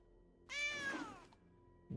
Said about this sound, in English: Meow, says the cat.